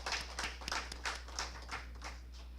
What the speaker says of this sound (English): Another round of applause for that very exciting,